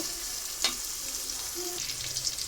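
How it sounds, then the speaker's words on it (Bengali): Onions fry in a pan with a steady close sizzle and a brief stirring clatter, unaccompanied by any voice. "তো পেঁয়াজটা ভাজতে থাক, তারপরে সব মশলাগুলো আমি দিয়ে দিব।"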